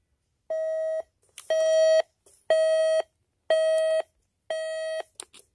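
A G.E. model 7-4956B cassette player recorder clock radio sounds its alarm: five evenly spaced electronic beeps, each about half a second long with short gaps, loud and clear with no talk over them.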